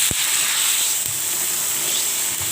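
Water goes into a hot pan of mustard-free fish curry with morola fish, katla, potato, eggplant, pointed gourd and green mango, giving a loud, steady hiss and sizzle with a few brief clatters.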